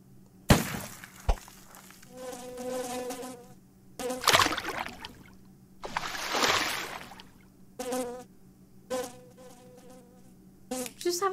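Bees buzzing in the indie video game Mitoza, a recurring near drone that comes and goes in several bursts, with occasional brief crackling hits and no talk.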